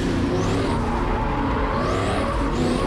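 A Toyota Soarer UZZ30 pulls away from a standstill in third gear at a lap-timing track session, with a steady loud engine and tyre roar and faint rising squeals, no voices.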